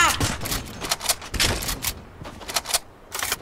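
Rapid gunfire in Fortnite Chapter 2, dense bursts of sharp shots rattling off in quick succession with short gaps, loud and close.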